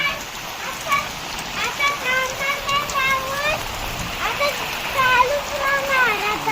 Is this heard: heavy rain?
yes